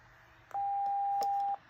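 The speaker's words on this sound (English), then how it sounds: "you're gonna hear the beep." A motion sensor alarm sounds a single steady electronic tone lasting about a second, loud and clear over quiet room background.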